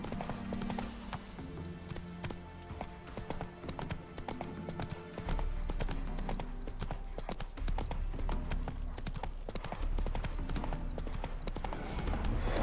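Horse hooves clip-clopping steadily in The Witcher 3, a continuous rhythmic trot under game ambience and a low rumble that thickens halfway through.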